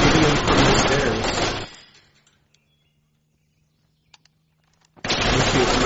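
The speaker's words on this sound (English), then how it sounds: "Yeah, we're shooting them from the stairs." Gunfire in the Project Reality video game as soldiers shoot down a stairwell: dense, loud bursts of shots at the start, then near silence with faint clicks and a low hum, before heavy firing erupts again.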